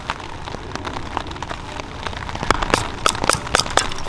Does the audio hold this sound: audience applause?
no